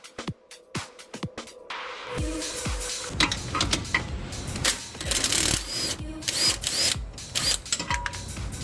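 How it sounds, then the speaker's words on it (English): Wrench work on a Mini Countryman R60 suspension: a 16mm nut is undone while a Torx 27 holds the stud, giving a run of close, sharp metallic clicks and ratcheting scrapes with some handling clatter. "So I'm gonna go ahead and hold this while I undo the nut"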